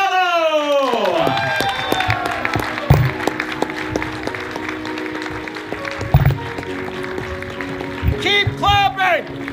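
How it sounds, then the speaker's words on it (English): Scattered, uneven clapping from an audience in a theatre at a tour guide awards ceremony, heard under a loud voice speaking and calling out over a microphone, with some whoops near the end. "Keep clapping!"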